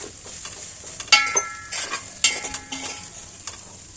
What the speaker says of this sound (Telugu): ఇప్పుడు అన్నం వేసేసి మంచిగా కలిపేసి ఒక ఐదు నిమిషాలు మూత పెట్టామనుకోండి